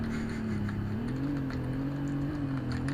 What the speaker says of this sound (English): you can really hear this thing has serious over revs.